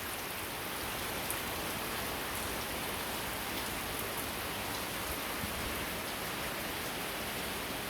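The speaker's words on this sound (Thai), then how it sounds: "เวลามีฝนอย่างนี้" Steady rain falls without a break, a dense, even hiss of drops on surfaces that holds at the same moderate level throughout, with no voices.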